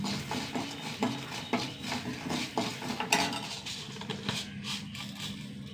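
A tablespoon of washed raw rice dry-roasted in a hot pan, with a spoon stirring and scraping against the metal in a series of quiet, irregular clinks and scrapes.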